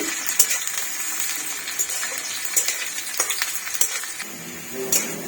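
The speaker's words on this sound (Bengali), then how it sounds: "তেলটা লাল লাল করে ভেজে নিতে হবে, তাই তো?" Onions frying in oil for egg shahi korma give a steady crackling sizzle with scattered sharp clinks of a utensil against the pan, close and fairly loud throughout.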